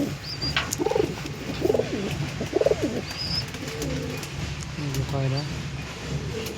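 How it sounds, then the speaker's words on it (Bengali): Pigeons coo repeatedly in a loft of fancy breeds, including an Omani bird, with rounded rhythmic calls and a few higher chirps, heard under someone speaking nearby. "এই যে একটা সাকি নর আছে, দেখে নাও পয়রাগুলো, দেখে নাও।"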